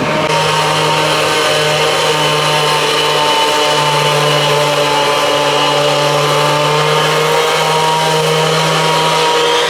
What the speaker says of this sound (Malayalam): ആ മെഷീൻ വെച്ച് കട്ട് ചെയ്ത് രണ്ടുപേരിങ്ങനെ ശേഖരിച്ചുകൊണ്ട് പോവാണ്